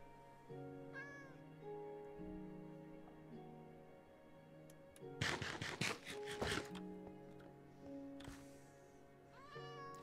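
A cat in the video game Minecraft meows several times, short rising calls near the start and end, over steady game music with a burst of crackling noise in the middle.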